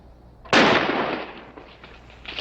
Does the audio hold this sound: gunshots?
yes